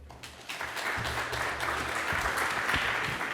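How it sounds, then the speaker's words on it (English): Audience applause for a speaker at a design conference talk, a dense steady wash of clapping that swells after a brief start and holds at an even level, with no voices over it. "everyone give Karim a round of applause"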